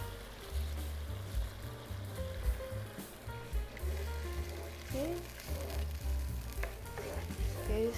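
Rice is stirred in chicken broth in a pot for Hainanese chicken rice, with sloshing, scraping spoon movements and low bubbling, fairly quiet and close.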